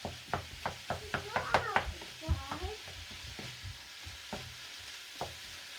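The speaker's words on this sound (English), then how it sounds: "you're going to keep stirring this" Bolognese sauce bubbles and sizzles in a pan while a spoon stirs it, with a run of rhythmic knocks and scrapes against the pan that thin out toward the end as voices talk over it.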